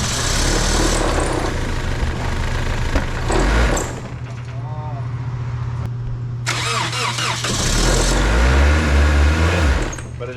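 A damaged car engine, run after its oil was ruined, cranks and fires up, then settles into a rough, loud idle before revving again, with faint squeal-like tones mixed in, close and dominant throughout.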